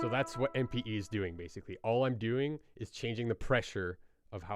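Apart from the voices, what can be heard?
No everyday noises stand out.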